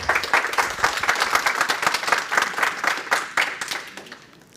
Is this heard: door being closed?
no